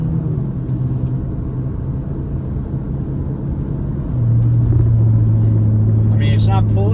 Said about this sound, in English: So let's get a nice little acceleration going. See if I can get up to 55-ish or so